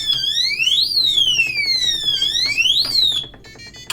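A loud electronic alarm from a TIGERKING digital security safe wails in rising and falling sweeps, then cuts off near the end leaving a brief quieter tone.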